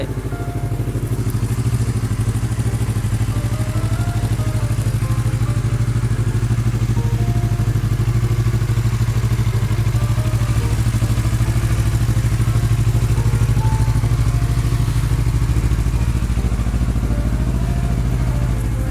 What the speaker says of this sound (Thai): เครื่องยนต์นะครับ เดินเบา นิ่ง ๆ นะครับ